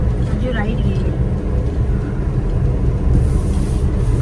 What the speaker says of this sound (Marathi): किती गाड्या एंटर होत आहेत गोव्यात